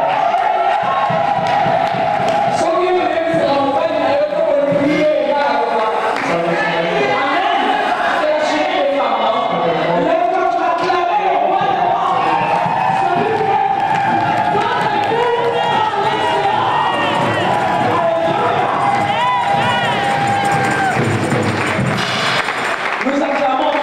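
A crowd cheers and acclaims at a women's gathering of the Melchisedek community in Mainz, dense continuous voices and shouts filling the space throughout, with people talking among the noise.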